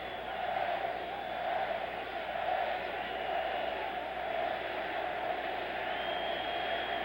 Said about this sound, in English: The crowd here is getting a little anxious.